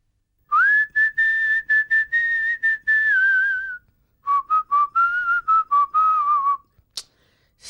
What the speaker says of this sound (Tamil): காலையிலேருந்து நான் பாட்டுக்கு விசில் அடிச்சுக்கிட்டே இருக்கிறேன்